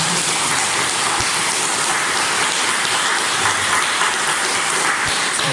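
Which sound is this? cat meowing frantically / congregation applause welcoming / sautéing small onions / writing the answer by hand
congregation applause welcoming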